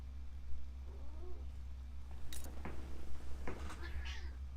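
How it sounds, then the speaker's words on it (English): A domestic cat meowing indoors, a few short close meows and cries scattered over a steady low hum. "there's my cat making noise"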